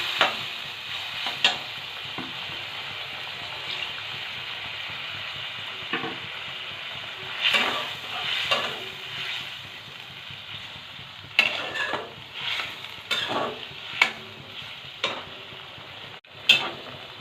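An aar fish curry with oil-fried potatoes comes to a boil in a pan after hot water is added, making a steady bubbling sizzle with occasional sharp utensil clinks.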